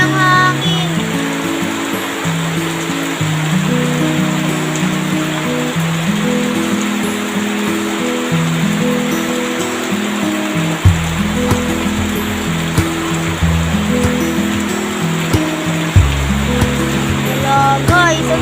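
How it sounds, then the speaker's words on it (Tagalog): Heavy rain and strong wind from Typhoon Enteng make a loud, constant roar and rush, with deep rumbling gusts that rise and fall beneath the steady downpour. "Patay ang lakas kasi ng ano, ulan. Pati ng hangin."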